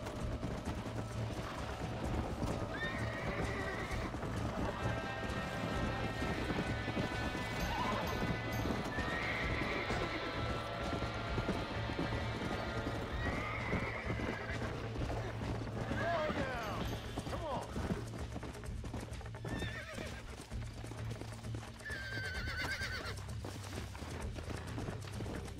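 In the Red Dead Redemption video game, a horse's hooves clop steadily throughout, with several whinnies rising over the gait. Someone talks over the game sounds.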